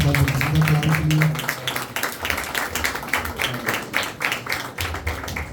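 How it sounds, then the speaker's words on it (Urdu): A church audience claps in a quick, steady rhythm to welcome a speaker, starting under a voice on a microphone and then continuing alone at moderate loudness. "وہ سامنے آئے اور تالیاں بجا کر ان کا استقبال کریں"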